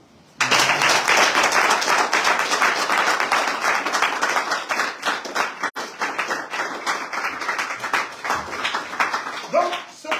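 An audience applauds loudly and continuously for about nine seconds, a dense, close wash of many clapping hands that tapers off toward the end.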